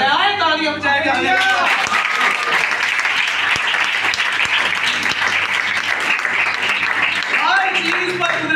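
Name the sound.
audience applause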